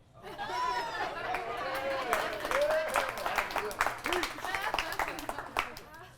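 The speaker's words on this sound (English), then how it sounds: "if we could maybe get a round of applause based on how good each of them are" An audience at a comedy joke-roast session claps in a mid-distance burst of applause mixed with lively chatter and laughter, the clapping dense and sustained before thinning toward the end.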